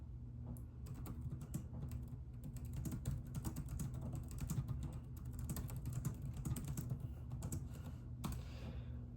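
Quiet, steady typing on a computer keyboard while writing an email: a fast, continuous patter of key clicks with a few sharper taps, and no talking.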